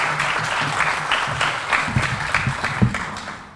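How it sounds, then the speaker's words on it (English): An audience at a school event applauds Massachusetts House Speaker Ronald Mariano with warm, sustained clapping from a crowd that fades slightly toward the end. "Please join me in a warm round of applause for Massachusetts House Speaker Ronald Mariano"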